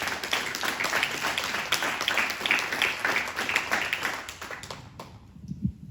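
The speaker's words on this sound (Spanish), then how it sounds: "Denle un aplauso al Señor." A church congregation claps together for several seconds in a dense, steady wash of applause with a few voices mixed in, thinning out near the end.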